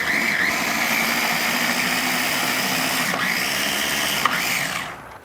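A blender chopping and grinding sauce ingredients for a sous vide striploin steak, a loud steady whirring drone running continuously before cutting off near the end.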